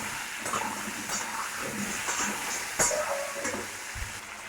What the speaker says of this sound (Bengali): কুচানো পেঁয়াজের মধ্যে 3টে কেটে রাখা আলু, এটার সঙ্গে একসঙ্গে ভাজি আমরা।